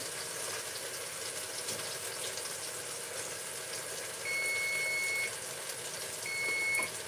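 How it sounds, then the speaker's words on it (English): Two steady electronic beeps, the first about a second long and the second shorter, sound over a constant background hum. "A loud beep."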